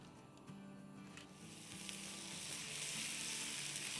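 Small pieces of chicken, about 150 grams, frying in oil, a quiet sizzle that rises and thickens after the first second or two, with faint low hum and scattered clicks, no speech.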